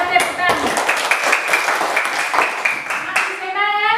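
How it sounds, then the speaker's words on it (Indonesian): Several rounds of brisk hand clapping from a school class, mixed with children's voices and chatter, with a louder burst of claps near the end. "kita tepuk tangan"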